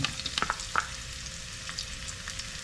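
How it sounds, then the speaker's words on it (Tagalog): Garlic and onion sautéing in a pan, with a steady sizzle, a few sharp stirring clatters near the start, then a continuous, moderately loud fry. "We're going to saute lang natin sila."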